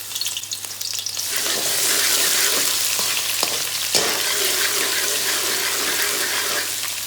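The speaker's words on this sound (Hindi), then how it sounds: "इसको हमने 1 से 2 मिनट के लिए हल्की आग पे सौते करना है" Ginger garlic paste sizzles steadily in about a third of a cup of hot oil in a kadhai over low heat, a loud, continuous close-up frying hiss with an occasional stir.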